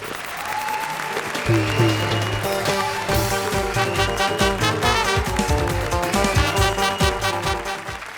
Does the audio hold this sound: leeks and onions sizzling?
no